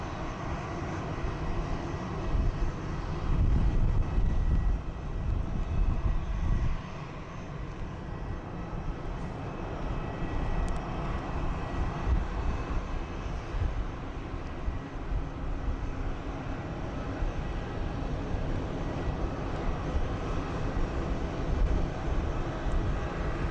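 EasyJet airliner at Southend Airport, a steady broadband engine roar that holds for the whole stretch with a slight swell early on, heard from a distance outdoors.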